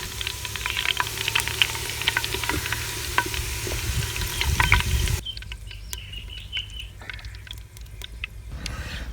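Onions frying in oil in a clay handi for a village-style chicken karahi, a dense, crackling sizzle with stirring scrapes that drops to a quieter, thinner bubbling hiss partway through.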